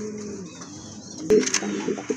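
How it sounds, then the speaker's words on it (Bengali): A pair of large yellow Sirazi pigeons coo faintly, with soft low murmurs near the start, then a sharp close clatter and a few brief rustles partway through. "ইয়েলো কালার ভিতরে এক জোড়া সিরাজি কবুতর দেখার মতো, মোটামুটি বড় সাইজের কবুতর"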